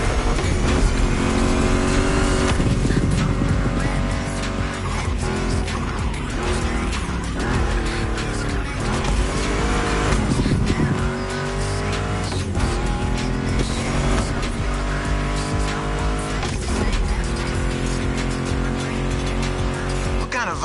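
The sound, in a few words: Mustang GT muscle car racing, tire squeal, video game The Crew Motorfest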